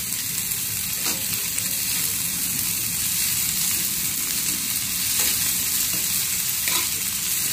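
Chopped onion, green chilli and tomato sizzling loudly in a pan, a dense continuous frying hiss close by with soft scraping thumps from stirring, no talking.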